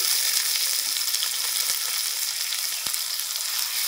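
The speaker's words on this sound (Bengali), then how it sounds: "আবারও পেঁয়াজটা ভালো করে ভেজে নেব আমি" Chopped onion fries in oil with garlic and black cumin, producing a dense, even sizzle up close with occasional sharp crackles.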